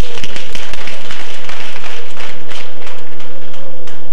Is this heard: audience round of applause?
yes